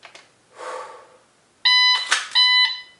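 Shot timer beeps during a dry fire drill: after a soft rustle, a loud electronic tone sounds three times in close succession, each steady and piercing.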